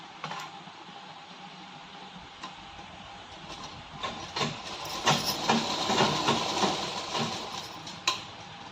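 A sewing machine stitches the waistband of an Afghani salwar, its mechanical whir starting faintly and swelling into louder running bursts in the second half, ending with a brief rattle.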